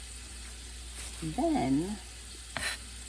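Chopped vegetables for chow mein sizzle and fry in a hot pan, a steady soft hiss under a brief spoken word and a few clinks of stirring.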